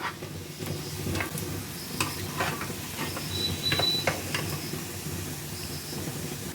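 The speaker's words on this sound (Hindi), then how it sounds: "अब इसे भी हम लो मीडियम फ्लेम पे पहले फ्राई कर लेंगे।" Wheat flour biscuits frying in hot oil over a low-medium flame give a steady close sizzle and hiss, with scattered popping crackles and a few light clinks throughout.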